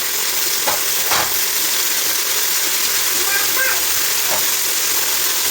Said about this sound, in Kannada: ಆಮೇಲೆ ನೀವು ನೋಡ್ಬೋದು ಬಟಾಣಿನ ಹಾಕ್ತಾ ಇದ್ದೀನಿ ನಾನು. ಸೊ ಇವಾಗ ಇವೆಲ್ಲ ನೀಟಾಗಿ ಫ್ರೈ ಮಾಡ್ಕೋಬೇಕು